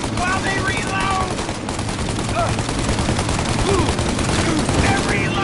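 Dense, continuous gunfire in a mafia video game shootout, rapid overlapping shots and machine-gun rattle at a constant loud level, with voices shouting beneath the barrage.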